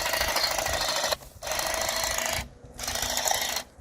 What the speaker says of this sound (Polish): tymi akumulatorowymi nożycami tnę w jakieś 20 minut, 20-15 minut